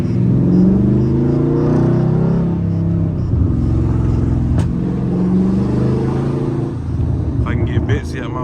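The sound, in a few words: loud Dodge Charger Scat Pack engine while driving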